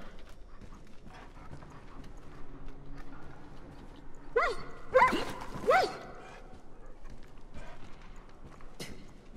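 A scared dog in the PC game Far Cry New Dawn lets out a quick cluster of sharp barks and yips midway, moderately loud, over quiet game ambience with faint clopping, and a voice talks briefly.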